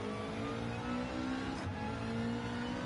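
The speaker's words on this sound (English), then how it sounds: "The Subaru does sound a lot better than the FT1 now." A Subaru GT3 race car engine in Gran Turismo drones at a steady high pitch, a sustained close-up motor note that holds throughout with no talking.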